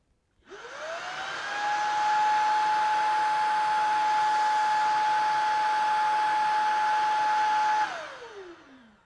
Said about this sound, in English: Now we're going to use these two vacuums while they're set to their medium settings. Here comes the Vertex Pro.